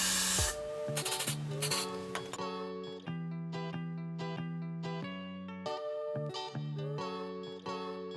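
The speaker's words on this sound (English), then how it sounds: "Use my got to be glued frizz spray to help stick this on." A few quick hissing bursts of frizz spray are misted onto short natural 4c hair at the start, followed by steady background music with no further spraying.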